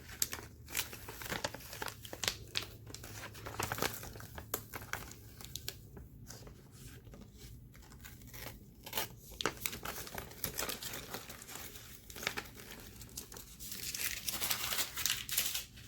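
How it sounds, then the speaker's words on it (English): Excess printed sticker material peeled off a cutting mat, a long run of crinkling, crackling and tearing sounds, close up and fairly quiet, continuing in uneven bursts. "I'm going to peel off all my excess material that didn't get used."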